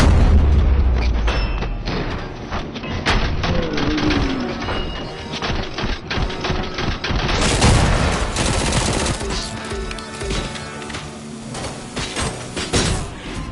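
Machine gun and assault rifle fire from RoboCop: Rogue City, with dense bursts of shots, booming impacts and clattering action continuing throughout, loud and close.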